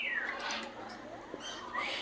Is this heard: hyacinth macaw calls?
yes